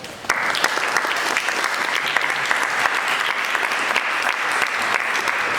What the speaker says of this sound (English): This might be the only time that some of my students are clapping for me